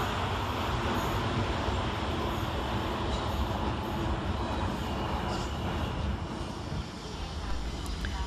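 South Western Railway class 444 electric units pass through Clapham Junction, a loud, steady rumble and roar of wheels and motors filling the whole span close by, with faint station sounds layered over it.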